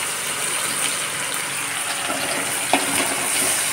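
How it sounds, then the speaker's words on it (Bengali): Onions frying in oil in a pan for Bengali pangas fish kalia give a steady, even sizzling hiss throughout, with one faint clink partway through. "তো এই দেখো পেঁয়াজটা ভাজা ভাজা হবে, এটাও পেঁয়াজটা ভাজা ভাজা হবে।"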